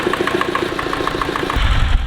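An old tractor engine, freshly repaired, runs steadily close by with an even, rapid knocking rhythm, and a deeper rumble swells in the final half second.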